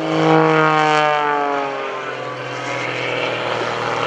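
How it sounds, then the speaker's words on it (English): An MX2 aerobatic propeller airplane engine drones nearby at an airshow, its pitch sliding downward as it slows and strains in a whip stall, then holding a lower, steady roar. "He's hanging by the propeller. Airplane is falling back on itself."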